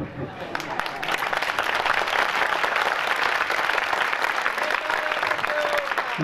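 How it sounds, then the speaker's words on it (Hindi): A congregation at a Jain religious discourse in Dungarpur claps steadily and fairly loudly throughout, a continuous wash of many hands with faint voices mixed in. "देखो तालियां बजा तो रहे हैं लेकिन जीवन नहीं है उसमें।"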